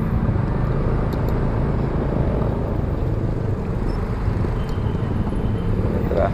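Morning road traffic in a jam between Kairagi and Airmadidi in Manado, a dense, continuous roar of engines and tyres close by, with faint talk in the mix.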